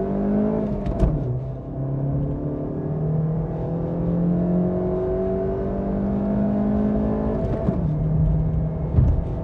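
Engine of a Kia Cerato 1.6 16V with a six-speed manual, heard from inside the cabin, pulls hard in first gear, climbing steadily in pitch with brief dips at gear or throttle changes.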